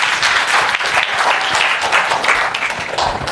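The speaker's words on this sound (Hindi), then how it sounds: "आपके लिए तालियां बजा दें।" An audience at a training camp session breaks into applause, dense and loud clapping that carries evenly throughout, close by, with no one talking over it.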